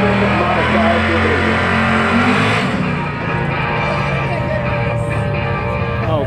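Sportsman Modified drag racing cars run the semifinals at a drag strip, making a loud, continuous engine roar that dips slightly midway, with an announcer talking over it.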